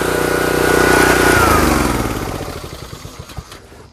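The small motor of a log splitter runs loudly nearby, then is shut off and winds down, its steady drone sinking into slowing chugs and a few final knocks before going quiet.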